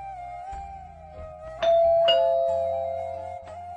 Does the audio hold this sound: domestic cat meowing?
no